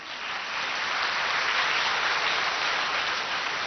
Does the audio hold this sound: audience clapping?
yes